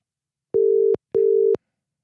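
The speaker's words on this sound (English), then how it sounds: "I can try Dave, but he said his phone's about to die." A telephone busy tone on a call that fails to connect: two identical steady beeps, each about half a second long with a short gap between, loud and clean against silence.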